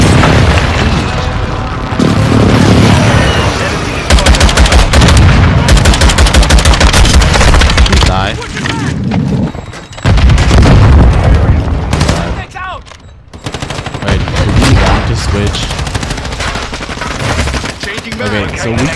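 Dense video game gunfire and explosions from Modern Warfare 2, loud continuous automatic bursts and booms with brief lulls, with someone talking over the action.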